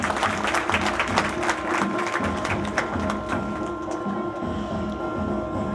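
An audience claps at an on-stage anniversary event of the Human Rights Council of India. The applause is a dense, steady patter lasting several seconds, with a faint sustained hum underneath and no clear speech.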